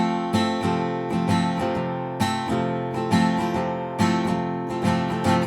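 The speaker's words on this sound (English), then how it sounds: "Down, down, up, down, up. Does it sound like this?" Acoustic guitar strummed in a down, down, up, down, up pattern, bright full chords repeating in a steady rhythm over several bars, played alone and up close.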